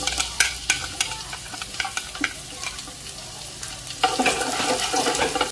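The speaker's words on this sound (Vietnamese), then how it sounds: "Sau khi dầu nóng thì mình sẽ cho tỏi vô." Garlic hits hot oil in a pot, crackling and sizzling close up with scraping stir clicks throughout, then growing into a louder, denser sizzle near the end; no speech.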